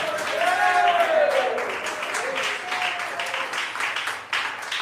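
Church congregation applauding during a Portuguese-language sermon, a steady wash of clapping under a preacher's raised, singing-like voice that carries over it for the full stretch.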